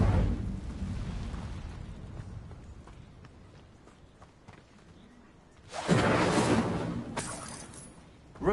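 Incendio fire spell cast in Hogwarts Legacy, a sudden whooshing burst of flame erupting loudly after quieter footsteps and rumbling, then a short flaring crackle near the end.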